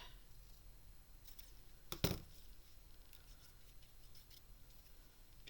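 A single quick snip of scissors cutting through a paper card scrap, a brief sharp cut in an otherwise quiet room with low background hum.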